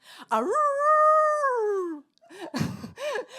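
A woman gives a long, rising-and-falling wavering howl, imitating dogs in the hills, then breaks into short laughing, yelping sounds after a brief pause.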